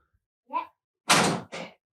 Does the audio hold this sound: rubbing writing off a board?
no